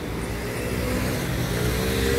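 A car drives past on a street in Turkey, a loud, close engine and tyre rumble that builds toward the end over steady traffic noise, with no talking.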